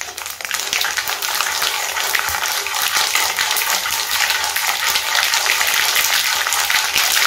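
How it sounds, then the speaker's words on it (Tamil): Mustard seeds and dried chillies fry loudly in hot oil, a dense continuous crackle and hiss that stays strong throughout. "மிளகாய் கடுகு நல்லா பொரியட்டுங்க."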